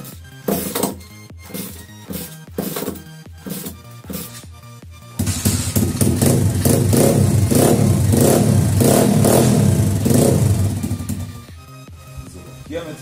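A pitbike, just after a carburetor adjustment, is kicked over with a few rough clattering attempts, then catches and runs loudly at a steady idle for several seconds before cutting out, close and alone.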